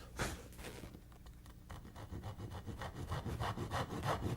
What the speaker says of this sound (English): we have to saw at an angle, keep just inside the line